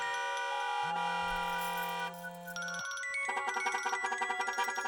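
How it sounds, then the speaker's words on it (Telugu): Electronic tones ring close by, a sustained chime that shifts into a rapid repeating ringtone pattern. "ఫోన్ రింగ్ అవుతోంది"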